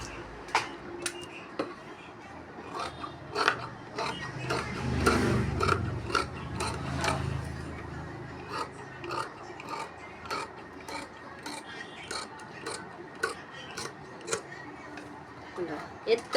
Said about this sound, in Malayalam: എത്ര പെട്ടെന്ന് സ്ലീവ് കട്ട് ചെയ്തെടുക്കാം അല്ലേ.